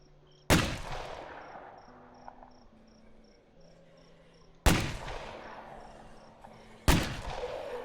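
Three loud, sharp gunshots fired by the character Mal in State of Decay 2, widely spaced and each ringing out with a decaying echo over a constant chirping of crickets at night.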